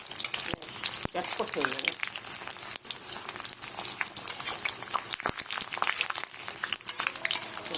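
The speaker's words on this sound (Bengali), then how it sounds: "আমি পাঁপড় আর আলুটাকে ভেজে নেব" Papad frying in hot oil for a green moong dal khichuri meal: a dense, crackling sizzle with sharp pops and bubbling throughout, steady and close, while a voice speaks briefly over it.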